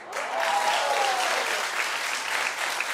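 A talk-show studio audience breaks into steady, dense applause that swells within the first half second and holds at an even level throughout, many hands clapping together.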